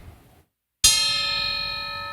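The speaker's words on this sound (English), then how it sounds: "Way more bell-like, more chime-like, way more overtones, much longer sustain. This is the brass" A tom drum fitted with a brass hoop is struck once after a brief silence, giving a sharp attack and then a bell-like, chime-like ring full of overtones that sustains steadily.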